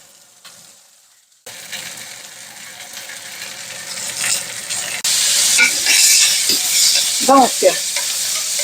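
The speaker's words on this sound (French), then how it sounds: "on est rendu à faire cuire le bacon" Bacon fries in a pan. After a quiet start the hiss and crackle build and grow louder, with a brief clatter, and one short word is spoken partway through.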